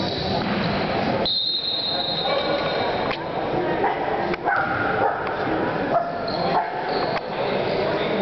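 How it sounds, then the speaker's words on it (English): A dog barks indoors while a basketball game plays on a television, with a second dog outside; sharp yips and barks recur across the clip over steady background noise and game commentary. "Why is he barking?"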